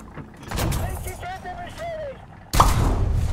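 German tank gunfire in War Thunder: a loud, sudden cannon shot near the end, preceded by engine rumble and a short tonal whine while a person talks.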